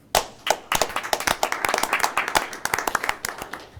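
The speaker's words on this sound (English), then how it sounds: "I think we should do a round of applause for the build grant funding that came through" A small group at a county commission meeting claps in a brief round of applause, uneven individual hand claps starting sparse, then thickening into a short, close burst before tapering off.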